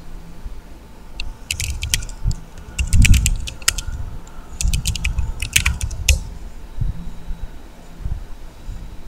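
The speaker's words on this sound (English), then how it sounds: "Here type your complete email address." Keys on a computer keyboard are tapped in short bursts of crisp close clicks while an email address is entered, separated by brief pauses and low background rumble.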